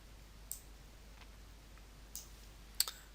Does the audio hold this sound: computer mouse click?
yes